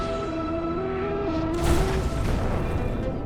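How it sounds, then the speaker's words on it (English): Animated nuclear bomb detonating on an asteroid: steady tonal background gives way to a loud broadband boom and rumbling roar that swells mid-clip and lingers to the end, with no speech. "The explosion has made a dramatic crater and nothing else"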